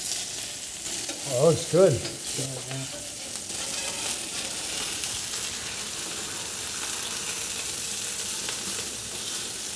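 Fish sizzling steadily on a hot griddle beside cooking broccoli, a continuous bright frying hiss throughout, with a brief spoken comment near the start.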